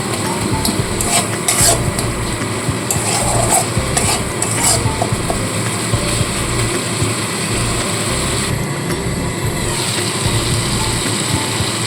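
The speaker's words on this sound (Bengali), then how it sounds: "এবার খুব ভালো করে মশলাটাকে কষিয়ে নেব।" Spice paste with sugar and a splash of water fries and is stirred in a pan for a pumpkin-leaf paturi, giving a steady sizzle broken by repeated scraping and clinking of a spoon against the metal, close up, with no talking.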